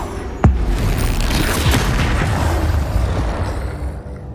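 A Confringo spell explosion in the video game Hogwarts Legacy, one sharp booming blast followed by a sustained rumbling, crackling wash of combat noise that fades at the end.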